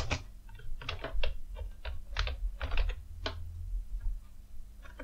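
Someone types on a computer keyboard, entering text into cells of a Calc spreadsheet: irregular light clicking keystrokes, close and clear, over a low steady hum, with no speech.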